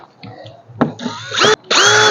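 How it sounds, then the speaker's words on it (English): Short bursts of a power drill spinning a wire brush to clean trailer ground connections, whining up in two loud spurts with brief scraping between, close by. "I'm going to go get a drill and a wire brush"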